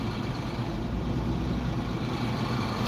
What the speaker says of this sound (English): You hear that big truck, man?